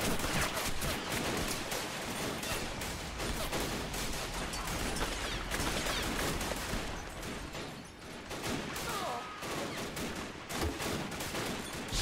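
Artillery shells slam into World War I trenches near Bois-le-Prêtre, mixed with constant rattling gunfire, forming a dense, loud battle roar that runs without a break.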